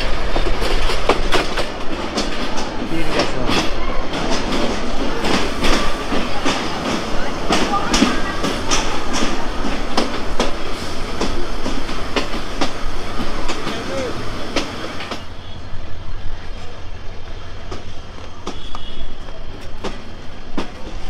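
A Lalmoni Express passenger train in Bangladesh, heard from inside a carriage, runs with a steady loud rumble and continuous clickety-clack of wheels on rails, the roar easing slightly toward the end.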